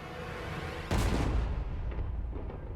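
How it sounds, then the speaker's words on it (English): A deep booming cannon blast at a pyrotechnics show breaks over a constant rumbling background, then rolls away into a long fading echo. "Oh, the cannons."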